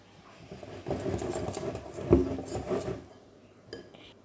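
Crêpe batter whisked in a bowl, a run of soft clinks and sloshing strokes with a louder knock near the middle, then fading to quiet.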